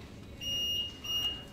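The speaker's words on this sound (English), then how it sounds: "That's your annunciator beep." The call button of a manually controlled 1891 Otis elevator gives two short, clear electronic annunciator beeps over a faint room hum.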